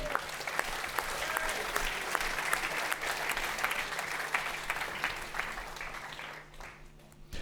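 A seated audience claps at a French media awards ceremony, sustained applause with a faint background hum, thinning and fading out near the end.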